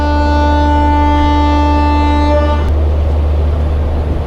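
The Sambaleswari Express runs along a hill railway line cut through a hillock, its loud sustained horn sounding with rich, steady tones before cutting off abruptly, leaving close rumbling train noise.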